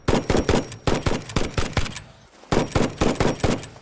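Automatic turret in the game Satisfactory firing in rapid bursts of loud, close shots, with a brief pause before the burst resumes; no talking.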